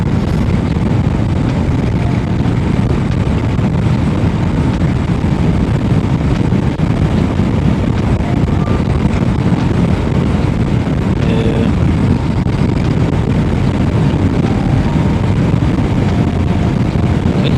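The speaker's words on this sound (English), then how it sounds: "This is one of those roads where it is always super windy." Loud, constant wind roars and buffets against the microphone without a break, a dense rushing noise filling the whole stretch.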